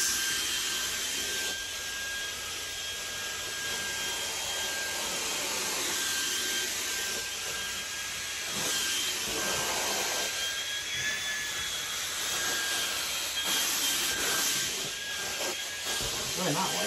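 A Shark Mini cordless vacuum cleaner runs steadily with a loud, continuous airy whine and a high motor tone, pushed along with its bare nozzle and then a floor attachment.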